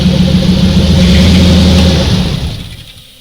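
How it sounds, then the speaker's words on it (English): A Ford 4.6 engine runs at a loud, steady idle with its throttle shim in place, then stalls once the shim is pulled, the rumble sagging and dying away into quiet. "you'll notice when I take this shim out, it's going to die"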